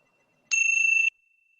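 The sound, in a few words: bell rung to signal time is up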